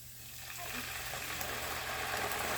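Millet risotto in a pan being deglazed with wine, giving a steady close-up sizzle that builds slightly and holds without talk.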